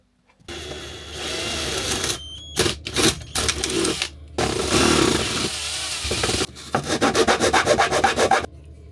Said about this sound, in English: I'm going to try and drill out that hole now